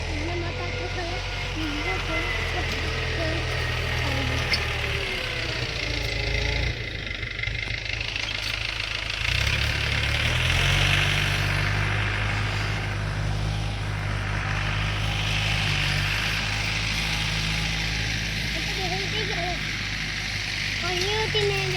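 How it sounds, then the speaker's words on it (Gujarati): Tractor engine working in a field, a steady low rumbling drone that grows heavier partway through, heard close, with people talking over it. "આ ટ્રેક્ટર વાળા તો હજુ કામ ચાલુ જ છે એનું તો."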